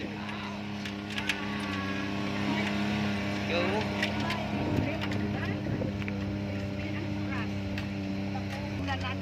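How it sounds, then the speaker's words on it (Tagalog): Engine of a 4x4 off-road vehicle climbing an uphill rural road, a steady low hum and rumble with occasional knocks and rattles from the rough track, while a person talks over it. "Yan yung 4x4 off-road."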